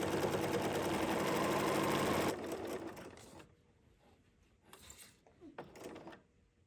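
A sewing machine runs a steady, dense burst of stitching on a blouse for about two seconds, then stops, followed by quiet handling noises and a couple of short mechanical clicks.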